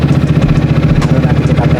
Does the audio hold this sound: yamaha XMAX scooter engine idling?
yes